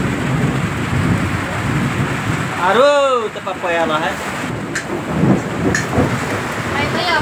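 Heavy rain pours steadily with a dull rumble of thunder beneath it, while people talk close by and one voice rises in a wavering call over the downpour.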